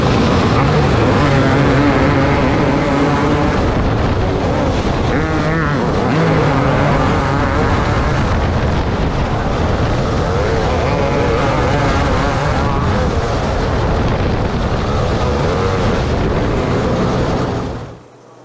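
Race car engines roar loud and continuous through a dirt track heat race, with several cars snarling and revving together in a dense wall of engine noise, and a voice can be heard under it.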